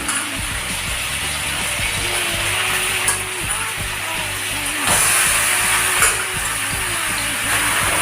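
Chicken pieces frying in a pan for Bengali-style chilli chicken, a steady loud sizzle with scraping and clattering of a spatula throughout, no talking.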